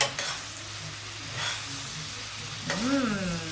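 Smoked paprika is stirred into pickled fish sauce in a hot pan, with a steady sizzle and hiss, occasional scraping from the stirring, and a brief voice near the end.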